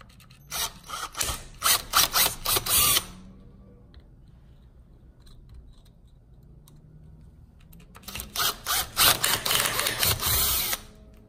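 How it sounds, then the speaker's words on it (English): An 11/64 inch bit drills holes while aluminum pedals are fitted to a Fiat 500 Abarth, two loud close bursts of rough whirring split by a quiet pause of several seconds. "now I've got an 11/64" drill bit."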